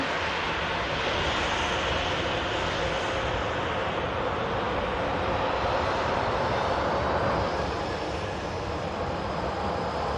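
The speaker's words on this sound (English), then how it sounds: "Ryanair 737-800 series, just taxiing in here." Ryanair Boeing 737-800 with CFM56 engines taxiing at Manchester Airport, a steady broad jet roar and whine holding at an even, fairly loud level throughout with no talk over it.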